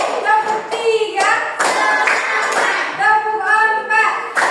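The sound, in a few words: children clapping hands in class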